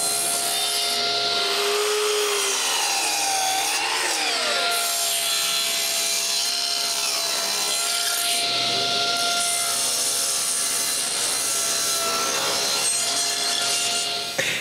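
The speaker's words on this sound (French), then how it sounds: "Maintenant que je suis sûr que c'est droit, je peux refendre le morceau" A power saw rip-cuts a piece of wood lengthwise in a long, continuous, whining cut, loud and close, with the pitch shifting as the blade bites.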